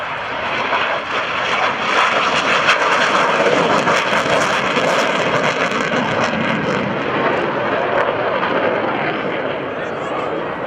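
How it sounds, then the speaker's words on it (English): An F-4 Phantom II jet launching at the 2012 NAS Oceana airshow, a loud, continuous engine roar that holds steady throughout with a faint rise and fall, while an announcer speaks over it. "we launch one of about 70 remaining flyable F-4 Phantoms in the world from the 82nd Aerial Target Squadron"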